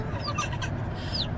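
Baby chicks chirp in short high peeps, a few quick calls near the start and another near the end, close by over a low indoor rumble.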